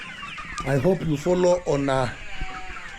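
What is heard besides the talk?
improved Kienyeji chicks clucking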